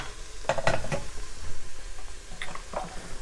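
Vegetables for a vegan lentil soup stirred in a pot while they sauté, giving a soft steady sizzle with a few scraping, clattering stirs up close and no talk.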